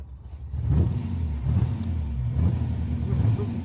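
A Daimler Dart's engine runs rich with the choke cable out, giving a steady low mid-range rumble with slight revving surges, close up, while people talk over it.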